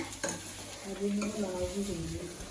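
Tadka tempering sizzling in a pan for arbi, a soft close frying hiss with a spoon clinking and stirring, short and fairly quiet.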